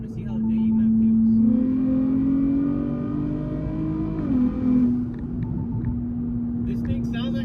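A Nissan Z with upgraded turbos revving on a dyno, a strong tonal engine note climbing steadily, then dropping and settling to a steady drone, with people talking over it.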